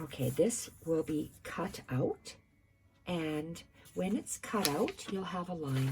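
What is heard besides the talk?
No distinct noise like a dog, phone or traffic.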